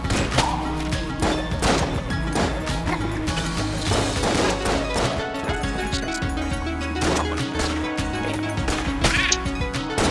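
Enemies explode in the video game Enter the Gungeon, a dense, loud run of crashing bursts and thuds layered over game music and effects, with no clear gaps between hits.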